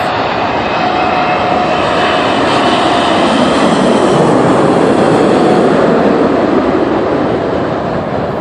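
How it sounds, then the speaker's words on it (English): A huge Airbus A380 double-decker airliner roars loudly overhead, a dense, steady engine rumble and whoosh filling the whole stretch with no pause. "This is an A380 double-decker flying right over my head."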